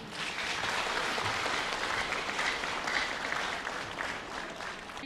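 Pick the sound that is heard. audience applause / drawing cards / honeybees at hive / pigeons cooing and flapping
audience applause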